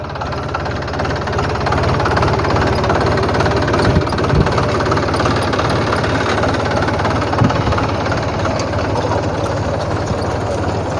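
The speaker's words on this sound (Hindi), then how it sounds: "तो देखो किसान भाइयों, ट्रैक्टर आ रहा है" A tractor engine runs steadily in a potato field, a continuous loud mid-to-low rumble with knocking texture throughout, no talking.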